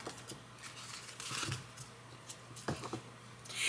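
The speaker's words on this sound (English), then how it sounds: "let's see how they shuffle" Soft papery rustles and light flicks of oracle cards being handled and shuffled up close, in short quiet bursts with a low steady hum underneath.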